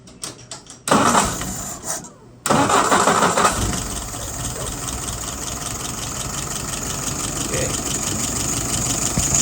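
A WO 698S engine cranks and catches, then settles into a steady, loud idle; a voice speaks briefly near the start.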